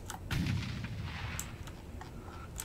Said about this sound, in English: Firing 9-inch guns now, though.